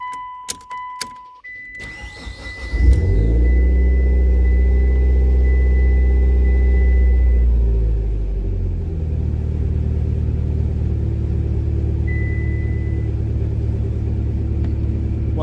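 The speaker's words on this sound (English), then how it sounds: "What you have to do is start the vehicle, let it run for about 10-15 seconds." A 2008 Mitsubishi Lancer Evolution X cranks and fires up after a few key clicks, then settles into a steady, loud, close idle rumble that drops slightly in pitch as it stabilizes.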